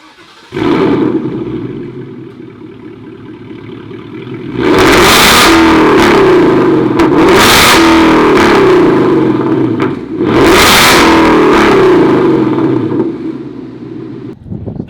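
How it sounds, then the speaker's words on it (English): A Ford Mustang-style car with a Roush Stage 3 exhaust and Borla X pipe idles with a deep rumble, then revs loudly in two long, roaring bursts with a brief drop between them, close and without talk. "I've been driving around for a little bit now after the Borla X pipe has been installed"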